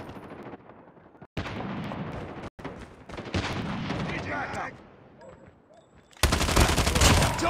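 Bursts of automatic gunfire and explosive blasts from a Call of Duty war battle, loud and dense in several stretches, ending with a sustained heavy volley; a voice is heard talking between shots.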